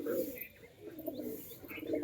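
Andhra high-flyer pigeons in a large loft flock give quiet, continuous throaty coos at a low level, softly layered over one another with faint background murmur.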